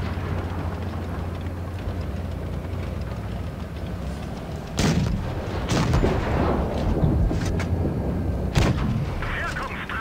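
Tank cannon fire in World of Tanks Blitz from an E 50 M battle: several sharp, heavy booming shots in separate bursts over a rumbling battlefield background.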